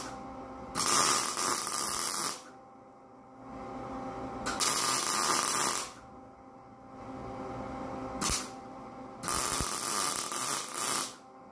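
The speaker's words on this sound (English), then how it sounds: "Check it, we just gonna weld it up." MIG welder laying bursts along a seam on a 1967 Mustang fastback body, three loud crackling buzzing runs of about one to two seconds each, separated by short pauses, with no talking.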